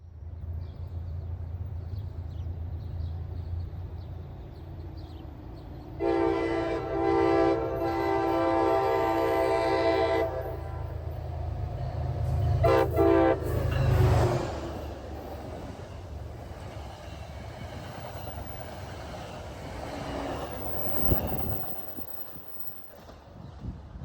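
A passenger train rumbles past at close range through a village station, with a loud sustained horn blast and a steady low roar of wheels on rails that fades as it goes by.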